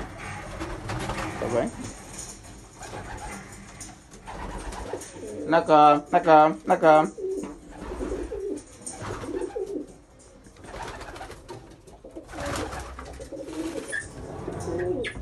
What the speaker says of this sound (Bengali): আর এখানে কিছু মাদি কবুতর আছে